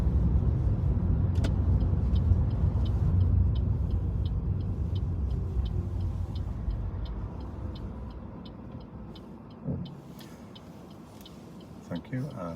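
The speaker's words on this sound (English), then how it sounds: "I'd like to pull up and stop on the left somewhere for me" During a mock driving test, a car's low engine rumble fades as it pulls up and stops on the left. An indicator ticks steadily throughout, and a brief knock sounds near the end.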